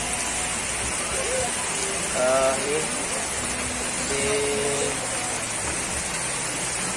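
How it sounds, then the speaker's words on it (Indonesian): Rain falling steadily outdoors at a street food stall in Jogja, a continuous hiss with voices talking over it and faint traffic in the background. "Hujan-hujan."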